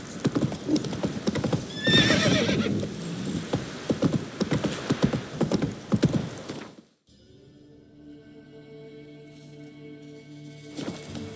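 Roach, a horse in The Witcher video game, gallops with loud rhythmic clip-clop hoofbeats and a whinny, all dense and close for about seven seconds. Then it cuts to a quieter, humming game ambience with a faint thump at the end.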